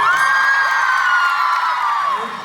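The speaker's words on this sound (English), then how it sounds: "So I want everyone here to give a round of applause to our Stray Kids members." A crowd at a Stray Kids fan event in Sydney whoops and cheers loudly and continuously, high excited voices blending into one sustained roar that fades slightly at the end.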